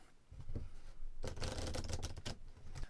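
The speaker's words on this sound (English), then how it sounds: "We're going to shuffle this." A deck of One Deck Dungeon cards is shuffled close up, a soft riffle at first followed by a crisp, rapid flutter of cards snapping together, with no talking.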